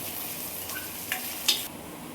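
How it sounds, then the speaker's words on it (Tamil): Sliced large onions sauté in a pan until golden for a spicy chicken kondattam, a steady frying hiss broken by a few scraping stirs of the spatula, near and with no talk. "இது நல்லா பொன்னிறம் ஆகிற வரைக்கும் நல்லா வதக்கிக்கலாம்"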